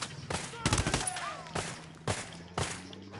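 Bursts of video game gunfire, several sharp cracks in an uneven rapid sequence with short gaps between volleys, moderately loud against a faint background.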